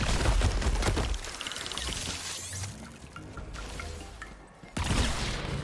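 A beam shotgun firing in Tiny Tina's Wonderlands, a fantasy shooter game, giving loud crackling energy blasts at the start and end with a bright fizzing, shimmering tail between them.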